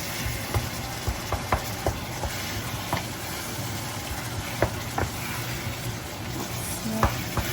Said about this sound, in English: just browning off the beef